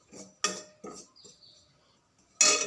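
A metal spoon stirs and scrapes in a cooking pot while dried fish is prepared without oil, making a few separate clinks and scrapes with gaps between them and a louder clatter at the end, with no voices.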